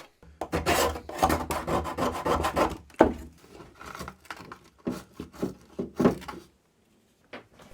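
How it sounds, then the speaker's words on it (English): Foam remains are scrubbed off the cabin heater casing of a Triumph TR7, heard as rapid, rhythmic rasping rub strokes in bursts, broken by short pauses and a final quiet gap. "Then I cleaned all the foam remains off the casing."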